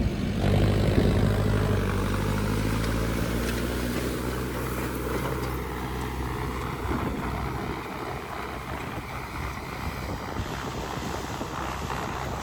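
A tractor drives along with its engine running in a steady low drone close by. Gusty wind noise buffets the microphone throughout.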